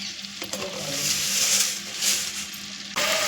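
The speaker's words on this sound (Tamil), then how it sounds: "இப்போ எண்ணெய் சூடானதும் கொஞ்சமாக வெந்தயம் போட்டுக்கலாம்" Fenugreek seeds hit hot oil for a stingray fish kuzhambu, making a bright, crackling sizzle with stirring scrapes. It swells and dips, then a sharp burst of fresh sizzling comes near the end.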